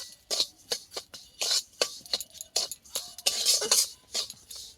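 A spoon stirs a semolina sweet mixture with milk in a bowl, making a series of quick scraping clinks in an uneven rhythm, close and fairly loud, with no voices.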